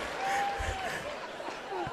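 Audience at a Miss ECOWAS pageant applauding for Senegal, a moderate, continuous patter of clapping with crowd murmur and a brief whistle-like tone over it.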